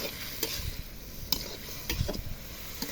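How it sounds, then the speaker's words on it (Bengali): Vegetable stems stir-fry in a pan, a soft continuous sizzle broken by several distinct scraping and stirring strokes at irregular intervals, close and fairly quiet, with no speech. "এখন ডাটাগুলো ভালো করে কষিয়ে নেবে।"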